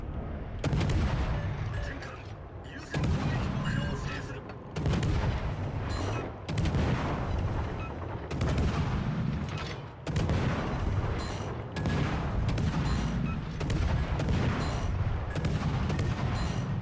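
Naval guns aboard a warship in a video game fire a series of deep, booming salvos at irregular intervals, each with a rolling tail, loud and close with faint talk underneath.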